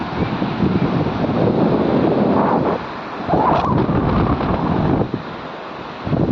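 Sea waves wash and surge along a shore in steady, loud broadband rushes, buffeted by heavy wind noise on the microphone, with a couple of brief lulls between swells.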